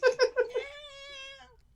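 A human voice imitates a whiny house cat's meow, starting with a few quick giggly yelps and then stretching into one long, drawn-out, rising and falling whine, close and fairly loud.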